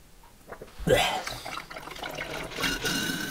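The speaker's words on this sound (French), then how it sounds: "Il coule le café, t'as vu?" Coffee streams from a Rozi ST511 coffee maker into a cup, a thin liquid trickle and gurgle that swells after a brief start, heard close under someone talking.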